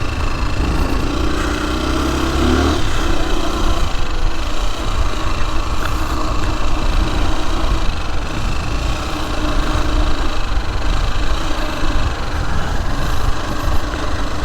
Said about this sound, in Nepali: CBZ बाइक, पुरानो बाइक।